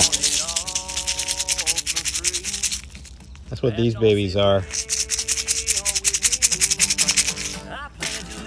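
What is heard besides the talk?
rattlebox seed pods rattling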